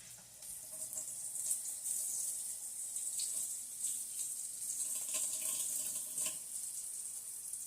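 Running tap water rinses a teaspoon at a kitchen sink, a soft steady hiss and splash with light metallic clinks of the spoon, fairly quiet and without talk.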